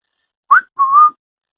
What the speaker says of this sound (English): Can I whistle? Let's see if I can do it without the tooth.